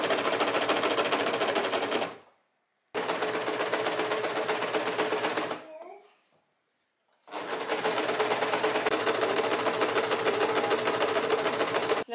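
A sewing machine joins t-shirt front, back and sleeve pieces in three long runs of rapid, even stitching, separated by two short silent gaps with faint handling of fabric between.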